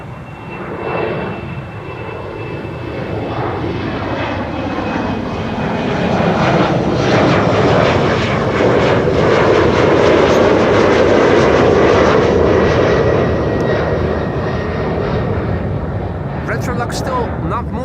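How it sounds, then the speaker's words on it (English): A KLM Embraer 190 jet climbs away from Amsterdam Schiphol, its broad engine roar building to a peak midway and holding strong, with people talking over it. "KLM flight 955 to Newcastle, now airborne. Embraer 190"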